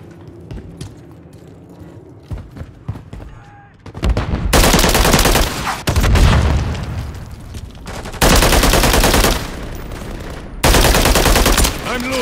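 Call of Duty gunfire on the Scrapyard map: after a quieter stretch of distant shots and movement, loud sustained automatic bursts erupt in three long volleys separated by brief pauses.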